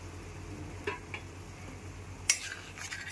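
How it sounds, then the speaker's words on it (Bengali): A paste of green chilli, cashew and poppy seed is worked into a frying curry of pointed gourd and curd, with soft spoon scrapes, a sharp metallic clink and a low sizzle underneath. "কাঁচা লঙ্কা, কাজু বাদাম আর পোস্ত দানার পেস্টটা দিয়েও খুব ভালো করে মিশিয়ে নিতে হবে।"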